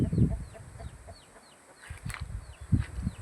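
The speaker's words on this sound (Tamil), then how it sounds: "கோழி குஞ்செல்லாம் நிறையா இருக்குது அவங்க தோட்டத்தில்" Chickens cluck intermittently close by in a farm garden, with soft chirps of many chicks in the background of an open outdoor setting.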